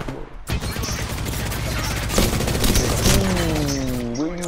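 Gunfire in the video game Apex Legends, loud rapid shots and bursts running throughout, with game effects and a rising tone near the end; faint voices may sit underneath.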